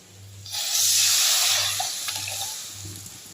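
Tamarind water pours and splashes into a pan in a steady hissing stream for a few seconds, close by, with a faint low hum underneath.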